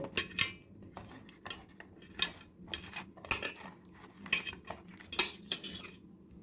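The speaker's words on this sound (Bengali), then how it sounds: "আমি এখন মাছগুলোকে নুন হলুদ দিয়ে সুন্দর করে মেখে নিচ্ছি" Shol fish pieces being mixed by hand with salt and turmeric in a metal bowl, quiet close wet squelches and clinks coming in irregular bursts with short pauses between.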